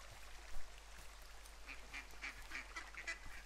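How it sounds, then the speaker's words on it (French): Faint, repeated duck quacks in the video game Firewatch, a short run of soft calls rising over a low steady background hum. "Oh, il y a des canards."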